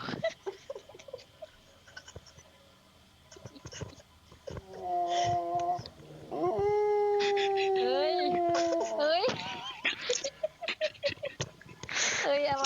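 A dog howls in long rising and falling wails, loud and close, with whimpering yips around it, while people talk over and between the howls.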